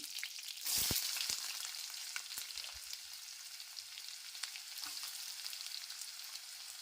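Onions drop into hot oil with popped mustard seeds, curry leaves and a green chilli for vangi bath gojju, a sharp burst of sizzling that settles into a steady, quiet crackling fry.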